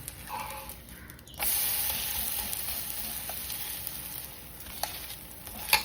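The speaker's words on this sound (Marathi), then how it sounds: "त्यानंतर आपल्याला सगळीजणं शेकवून घ्यायचं आहे तेल किंवा तूप वापरू शकता तुम्ही" Thalipeeth flatbread fries in oil or ghee with a steady, close sizzle that starts abruptly and continues to the end, with a few small pops.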